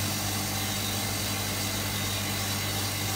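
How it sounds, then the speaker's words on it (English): A Hotpoint Supermatic De Luxe 9414 twin tub washing machine spins with its lid shut, giving a steady low motor hum and vibration with a constant drone and no talk. "I'm just going to shut the lid and spin out"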